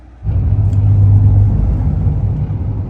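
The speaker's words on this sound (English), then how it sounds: "Yes, we're in a diesel pickup truck." A diesel pickup truck on the road: after a brief quiet start, a loud, steady low engine and road rumble rises and holds, with no voices.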